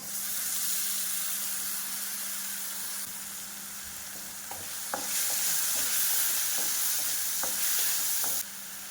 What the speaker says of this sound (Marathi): कांदा फ्राय होत आहे तोपर्यंत टोमॅटो आणि मिरचीची प्युरी करून घेत आहोत.